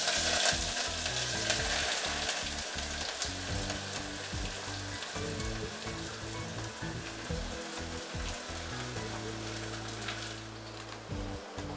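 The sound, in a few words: chopped onions frying in a pan with chilies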